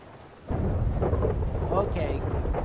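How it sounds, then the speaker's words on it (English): Steady rain with a low rumble of thunder in a GTA V roleplay game, starting abruptly and continuing at a loud, even level with faint background sounds over it. "It's raining."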